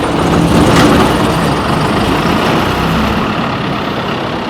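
The rear motor of a street sweeper runs with a loud, steady, rumbling roar, close and constant without a break and with no voices.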